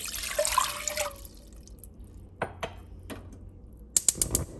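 Water splashes and pours into a cooking pot for about a second, then a few sharp drips and metallic clinks follow in the quiet.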